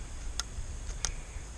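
A fingernail flicked across the worn edge of a Husqvarna 455 Rancher chainsaw bar, making two faint, sharp ticks about two-thirds of a second apart, alone and close against a quiet background.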